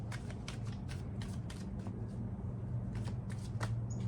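A deck of cards shuffled by hand, with repeated quick riffling bursts and soft slaps in an uneven rhythm, close and fairly quiet.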